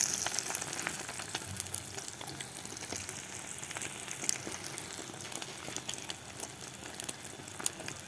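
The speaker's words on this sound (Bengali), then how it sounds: "এই ডিমটা ভেজে পরে পিস পিস করে কেটে রান্না করব" An egg fries in hot oil in a pan, a steady close sizzle with small crackling pops throughout and no talking.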